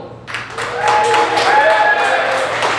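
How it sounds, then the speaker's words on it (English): Crowd applause and cheering at a comedy magic show, building from quieter claps into a sustained, fairly loud burst of clapping with a few whoops, the whole room joining in. "By round of applause, do you want it to be visible?"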